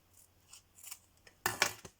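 Scissors snip through string on a handmade card in a few quiet, close cuts, ending with one sharper, louder snip.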